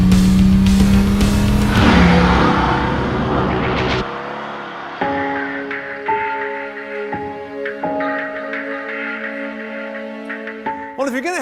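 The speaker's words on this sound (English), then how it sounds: "Yep, this is a Mercedes." Mercedes-AMG GT S sports car (2016) engine loud and close: a hard rev with tire noise, then a steady engine note with gear-like steps in pitch, and a sharp burst at the end.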